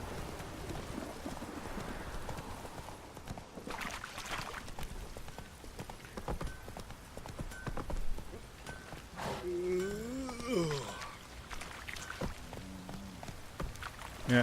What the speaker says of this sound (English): It was a dark and stormy night.